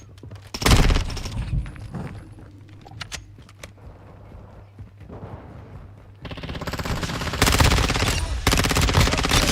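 Bursts of 9mm gunfire from the ISO 9mm in a Call of Duty Modern Warfare II match, loud and close, with a dense volley at the start, scattered shots in the middle and sustained heavy firing toward the end.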